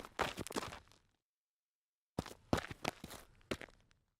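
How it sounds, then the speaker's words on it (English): Footsteps behind someone in a car park: a quick run of sharp, close steps, then about a second of silence, then another burst of several steps. "It was a distinct set of footsteps behind me."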